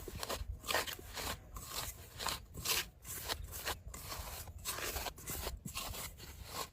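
Spices are worked by hand into shredded banana stem bark for chips, giving a close, rhythmic rustling and crunching that comes in quick bursts with short gaps.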